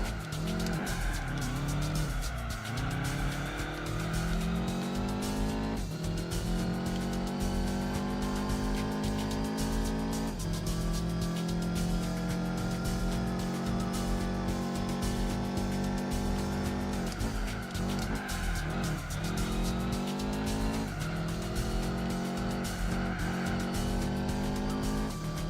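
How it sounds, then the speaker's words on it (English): A Subaru Impreza in the Gran Turismo 4 racing game: a loud engine drone climbs repeatedly through the revs with gear changes, and tire squeal and skids run throughout. "I do admit that Impreza sounds beautiful."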